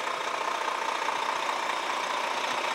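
A Volvo FM fire truck with a high-reach aerial platform idles steadily nearby, a constant broadband engine drone with no pauses and no talk.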